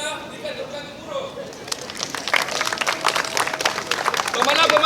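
A crowd at an archery tournament in Malaysia breaks into thunderous applause for the archers. Someone speaks briefly, then dense clapping swells and grows louder, filling the rest of the moment.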